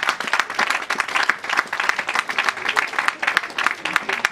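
Audience clapping for presenters at a design talk, a close, dense burst of applause with pulsing swells and no speech over it.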